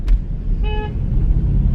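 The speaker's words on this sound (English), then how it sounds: "They're honking at all of them over there." A single short car horn honk rings out on a street over a steady low rumble of passing traffic.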